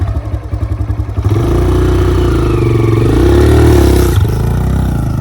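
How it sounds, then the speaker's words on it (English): Dirt bike engine on a Honda CRF 140R during a rider's first outing, a few low chugging pulses at idle before revving up into a steady, loud drone that holds for several seconds with a brief dip near the end. "First time on his dirt bike over here on a 140R"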